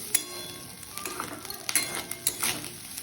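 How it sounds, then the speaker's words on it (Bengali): Fish roe stir-fried in a kadai and chopped apart with a spatula: a soft sizzle under intermittent metallic scrapes and taps, fairly quiet and close. "এবারে খুন্তি করে কেটে কেটে ঝুড়ো করে ভাজবো"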